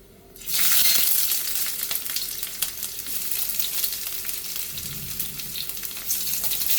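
Onions dropped into a hot pan with browned garlic, kicking up a loud, steady sizzle and frying hiss with occasional stirring clatter, no talk.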